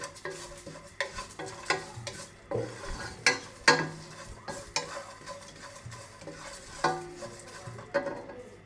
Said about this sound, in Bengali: শুকনা মশলাগুলো আমি একটু কাঠখোলায় ভেজে নিচ্ছি 4-5 মিনিটের মতো।